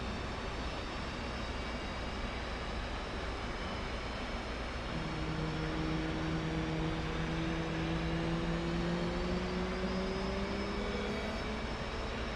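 Twin jet engines of an F/A-18C spool up to idle during a cold start on a carrier, a steady roar with rising whining tones climbing through the second half, continuous and close with no talk.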